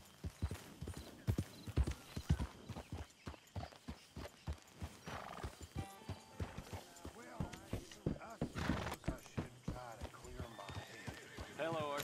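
Horse hooves clip-clop steadily in the Red Dead Redemption 2 video game, a close, rhythmic series of distinct hoofbeats with occasional whinnies, while voices talk over parts of it.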